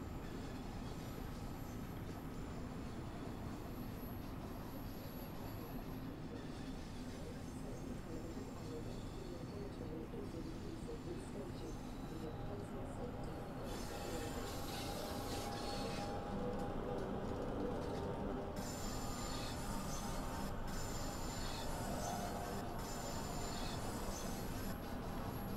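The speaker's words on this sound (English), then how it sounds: "now I'm going to allow the train to coast towards the end" A London Underground Bakerloo Line train in the Train Sim World 2 game coasting into a station, with steady rolling rumble and wheel noise and a rising hiss near the end.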